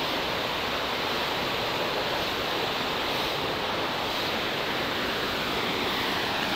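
A waterfall at Khao Chamao National Park in Rayong pours in a steady, dense roar of rushing water, continuous and loud, with no voices.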